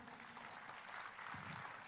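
A church congregation at a GBI service in Jakarta claps together in a steady, dense wash of applause that holds at a fairly soft level from start to finish.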